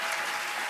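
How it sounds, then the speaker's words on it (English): Studio audience applause at a late-night talk show taping, a dense, loud wash of clapping filling the short moment on its own. "Clap for him."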